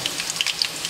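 Onion frying in oil in a Bengali village kitchen, a light, steady sizzle with crisp little pops spread through it and nobody talking.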